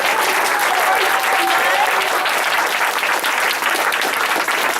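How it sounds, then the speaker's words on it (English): Sustained, loud applause from a crowd of parents honoring children at a school American Symbols presentation, steady clapping filling the whole stretch with a faint voice or tone briefly audible underneath. "Can we have one more round of applause for all of your amazing children?"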